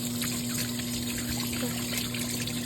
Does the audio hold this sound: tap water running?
yes